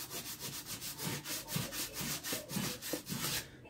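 Sandpaper rubs rhythmically over a vase made from milk cartons, a quiet, steady back-and-forth scratching in repeated strokes with no talk.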